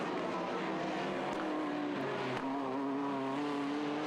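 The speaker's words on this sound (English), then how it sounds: "Stands on the brakes, down through the gearbox, squeal of tyres ahead of him." A TVR Tuscan race car brakes hard approaching a hairpin during a 2003 TVR Tuscan Challenge race, its engine roaring continuously while tyres squeal loudly through the downshifts.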